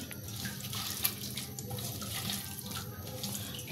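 Tap water runs steadily into a kitchen sink while hands are washed during cooking, a close continuous splashing flow with a small knock partway through.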